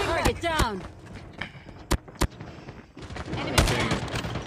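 Gunfire from a CR-56 AMAX in Call of Duty Mobile comes as a few sharp, loud shots and short bursts, mixed with game effects while someone talks excitedly over the action.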